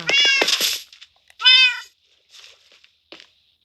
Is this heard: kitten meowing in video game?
yes